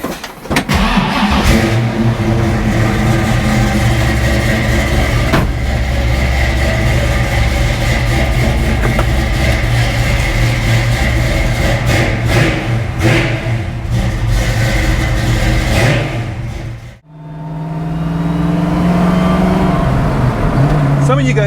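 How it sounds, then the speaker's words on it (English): Car with a modified suspension being driven, its engine a loud, steady close drone throughout with a brief dip as the gears shift, then the engine pulls again at a lower, sustained tone. "let's go for a drive"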